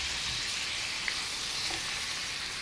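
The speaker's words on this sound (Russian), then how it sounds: "обжариваем каракатицы и мидии" Steady, dense sizzling of cuttlefish, mussels and large prawns frying in a hot pan over high heat, a continuous crackling hiss with no talking.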